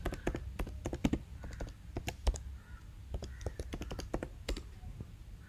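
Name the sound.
typing a command on a computer keyboard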